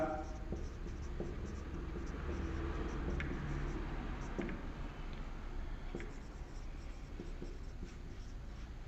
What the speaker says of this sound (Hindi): इसकी चारों एंट्रियां मैं पहले लिख देता हूं